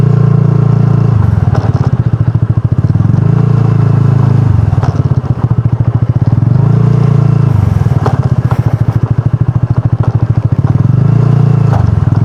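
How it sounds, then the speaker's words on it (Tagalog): A scooter rides a rough, rocky road near rock formations at a national park in Bulacan, its engine droning steadily with repeated throttle swells while the chassis clatters and rattles over the uneven surface, loud and close throughout. "Pero kapag ganito, kayang-kaya naman ng scooter to."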